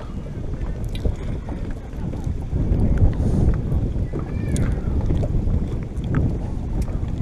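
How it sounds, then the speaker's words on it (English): A small boat's engine run in short bursts while returning to harbour, a low uneven throbbing rumble mixed with wind buffeting on the microphone, with voices talking at times. "Do little bursts on the engine now."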